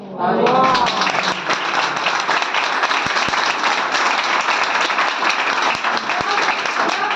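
Loud, dense applause from an audience at a sales team meeting fills the whole stretch, steady and sustained, with a brief voice at the very start.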